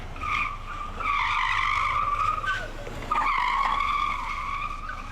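A stolen car skids with two long, loud, shrill tire squeals separated by a brief break, close by and with no one speaking.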